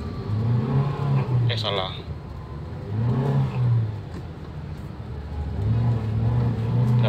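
A 2015 Toyota Avanza pulls away in first gear, its engine revving up and easing off in loud, close surges under people talking inside the car.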